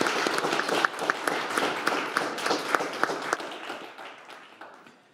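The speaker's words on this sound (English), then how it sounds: "A round of applause, please." Applause from a keynote audience at an economics lecture, dense, steady clapping of many hands close by, holding for several seconds before tapering off toward the end.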